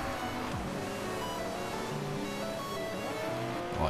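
Car engine in the Forza Horizon 2 racing game, a steady droning motor with shifting pitch and tire noise, blended with background music and ambient wash, fairly quiet and continuous.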